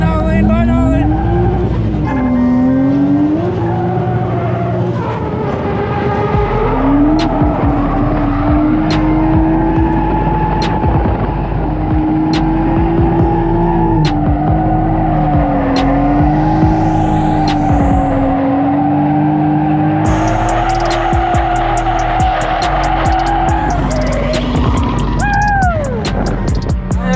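A Scion FR-S at a drift event revs hard with its engine note rising and falling under steady wind and road noise, with a brief squeal near the end and talk over it.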